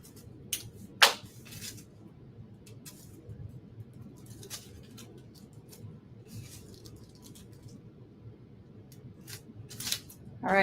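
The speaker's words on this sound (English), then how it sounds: "You can cut some big strips." Scissors cut strips of foam adhesive in sharp, close snips that are spaced irregularly over a low, steady room hum, with faint background activity.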